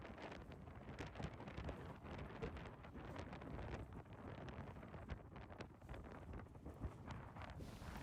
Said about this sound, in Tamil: காற்றினுடைய அந்த சத்தமும் இந்த இடத்துல நிற்க முடியாமல் காற்று வந்து தள்ளி கொண்டிருக்குது